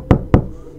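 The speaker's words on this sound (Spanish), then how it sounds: "Golpearon fuerte la puerta" Two hard, heavy knocks on a wooden door, evenly spaced and close, each a sharp thud that dies away quickly.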